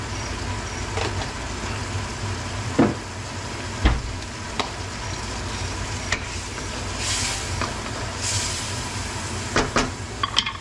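Pork stirred in a hot pan with soy sauce and sugar, a steady sizzle of frying with scattered scraping clicks of the utensil, close and alone without talk.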